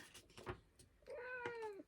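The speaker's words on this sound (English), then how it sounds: "my cat entering my room" A pet cat entering a room gives two short quiet meows, the second longer and more drawn out, close by in a quiet space.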